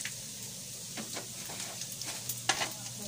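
Dried fish (daing) frying in oil, a close, moderate sizzle with scattered spatters and scraping stir strokes over a few seconds.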